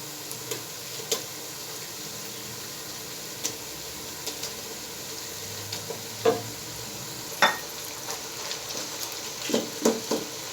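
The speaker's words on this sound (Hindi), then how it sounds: "अब इसमें मैं 1 किलो मेरे पास बीफ का कीमा है, वो मैं इसमें ऐड करने लगा हूँ।" One kilogram of beef mince frying in a pan with softened onions, a continuous close sizzle punctuated by scattered stirring clicks and spoon knocks, heard alone without talk.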